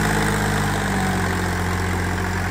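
A John Deere 5038 D turbo farm tractor engine idles in a steady, loud, unbroken diesel rumble with a constant low throb and no voices.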